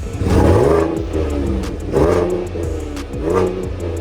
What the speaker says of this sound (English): before we check out the engine, let's listen to it.